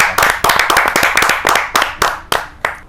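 A burst of hand clapping from an audience at a Hindi poetry gathering, loud and close, with sharp irregular claps rolling on for a few seconds.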